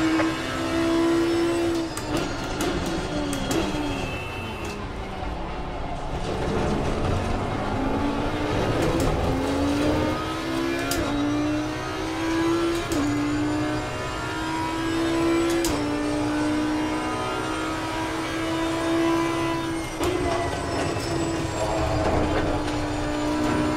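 A Ferrari GT race car roars through a lap in the Assetto Corsa Competizione sim, its engine note rising and falling steadily through gear changes, loud and continuous with no talking.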